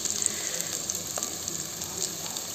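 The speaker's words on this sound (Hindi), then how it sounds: "डाल दिए हाँ प्याज और जीरा और मिर्ची और मीठा नीम पत्ती ला तो भुंजावा थे अभी" Onion, cumin, green chili and curry leaves fry in hot oil with a steady, close sizzle and hiss that runs throughout, with no talking.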